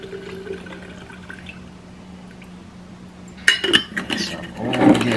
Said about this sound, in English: Just drain all the gas out of this.